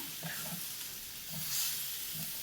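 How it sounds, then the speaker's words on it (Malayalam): Chicken sausage pepper fry is stirred in a pan just after the flame is turned off, a soft, close scraping and shuffling over a faint lingering sizzle, quiet and without talking. "ഇനി നമുക്ക് ഫ്ലെയിം ഓഫ് ചെയ്യാം. ഒന്നുകൂടെ ഇളക്കി മിക്സ് ചെയ്ത് കൊടുക്കാം."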